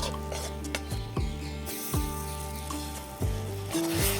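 Roasted flour being stirred in a pan while making mohanthal gives a steady close sizzle, with a scraping stroke about once a second and a faint metallic clink or two.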